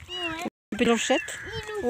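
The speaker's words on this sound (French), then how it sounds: "Allez, viens petit miaou." A small white kitten meows in several short, high, wavering cries, close and fairly loud, with a person speaking softly over and between the calls.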